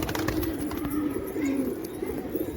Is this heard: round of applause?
no